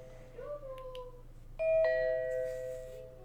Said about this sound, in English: press the door chime, select the sound you want